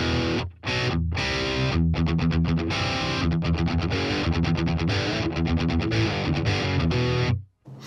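An electric guitar played through a BOSS Katana amp with no effects added chugs out loud, dense distorted riffs of palm-muted bursts and sustained chords, with a couple of brief gaps where the sound cuts out.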